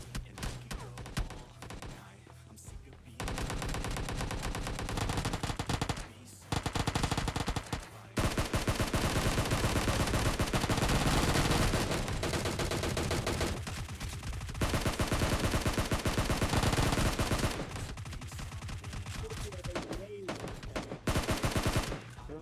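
Rapid, loud bursts of gunfire from the video game PUBG sound in dense volleys, with brief pauses between long stretches of automatic fire.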